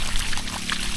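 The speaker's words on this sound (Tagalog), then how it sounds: "naka-on lagi kasi pag sinasarado puputok yung hose sa sobrang lakas ng pressure ng tubig" Cold mountain water gushes from an always-open hose on a hillside farm, a loud, dense, continuous rushing pour with no voices over it.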